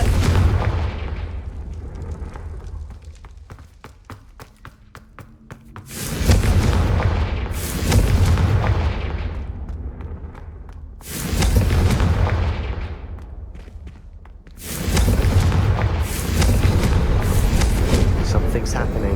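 Confringo spell explosions in the Hogwarts Legacy video game, four heavy booming blasts with long rumbling tails, loud and close, coming in bursts a few seconds apart while a voice talks over the game sound.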